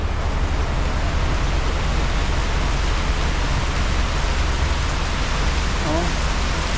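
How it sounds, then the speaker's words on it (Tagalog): Heavy rain pours steadily onto a garage, a dense, loud, unbroken hiss of drops that fills the whole stretch. "Pakalakas ang ulan dito sa garahe."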